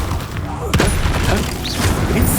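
Spells such as Glacius and Accio are cast in the Hogwarts Legacy video game, with a deep boom landing near the start over a busy rumble of combat effects while a person talks over it.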